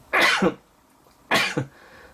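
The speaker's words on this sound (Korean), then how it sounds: "아유 기침 나오네요" Two separate coughs about a second apart, close and fairly loud, with quiet in between and no talking.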